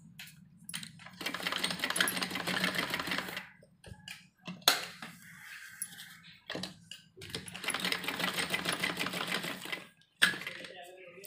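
A sewing machine stitching cutwork on fabric for a neck design, running in two long steady bursts of rapid clatter separated by pauses, with clicks and someone speaking between the runs.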